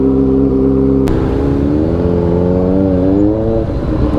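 Kawasaki Ninja ZX4RR motorcycle with a straight pipe exhaust, loud close engine drone with a sharp blip, then wavering revs rising and falling before settling.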